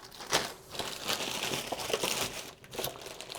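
A crinkly Apple store plastic bag being opened and handled close by, with continuous rustling and crumpling and a few sharper crackles, no talking.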